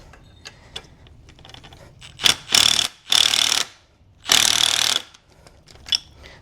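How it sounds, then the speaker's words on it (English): A spring compressor works on Eibach Pro-Kit lowering springs for a Ford Maverick, with several loud, close bursts of rapid ratcheting tool noise, each lasting about half a second to a second, separated by quieter mechanical clicks. "So what it does is it will compress the springs and will allow you to remove this bolt on top of it here."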